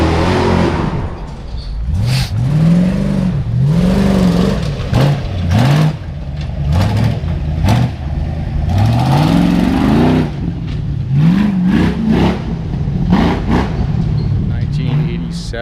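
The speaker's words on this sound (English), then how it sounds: "We got a couple guys coming up the mountain here loud behind me" Off-road vehicles climb a mountain trail loudly, their engines revving in repeated rising pulls behind someone talking continuously over them.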